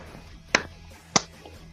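Two sharp hand claps about half a second apart, close and fairly loud over a quiet room background, with no talking.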